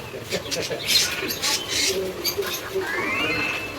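Caged pet birds, yellow and black cockatiels and parrots, give short chirps and whistles at moderate distance, mixed with a faint voice and low background noise.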